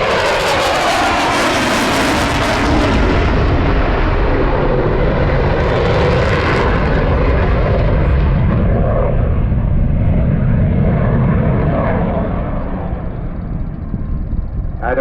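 Eurofighter Typhoon jet at the Southport airshow 2022, a loud continuous engine roar that swells and shifts in pitch as it passes, heard from the crowd with a commentator's voice underneath.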